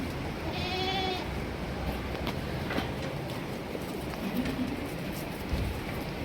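Barbari goat on a goat farm at Farah, Mathura, giving a short bleat near the start over a steady background hiss of the farm, with faint bird calls around it.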